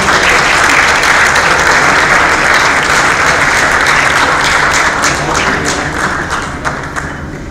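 Sustained applause from a graduation ceremony audience in Dubai fills the hall, a dense, steady wash of many hands clapping that tapers slightly toward the end, with no talk over it.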